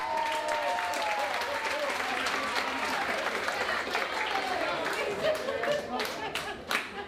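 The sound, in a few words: comedy club audience applause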